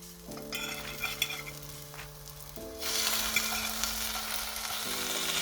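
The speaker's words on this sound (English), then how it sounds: "Now I'm gonna flip the bread." Bread fries in a pan and is flipped: a low steady sizzle swells into a louder, fuller hiss after the turn, running continuously beneath sustained musical tones.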